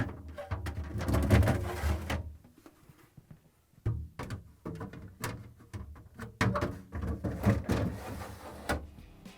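Plastic crisper drawers are slid and set into an LG/Kenmore refrigerator, with bursts of close scraping, knocks and clunks separated by a brief quiet pause.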